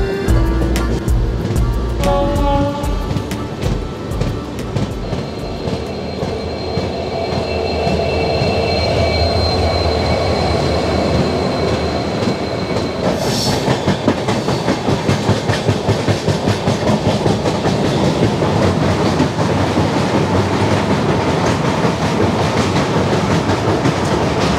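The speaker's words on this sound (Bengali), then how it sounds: "ট্রেন ঢুকছে সেবকে।" The 13149 Kanchankanya Express pulls into Sevoke station with continuous loud rail rumble and rhythmic clickety-clack of wheels over joints, faint wheel squeal, and a sharp brief hiss midway, passing through tea gardens and forest country.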